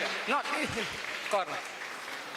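Crowd applause at the Mief Civil Quest 1.0 event as a participant is called forward, a steady broadband clapping that runs under a man's speech throughout.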